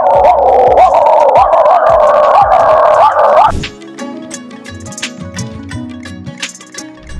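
A ventriloquist imitates a dog with a loud, sustained run of bark-like and whining voice sounds for about three and a half seconds, then drops to quieter scattered noises.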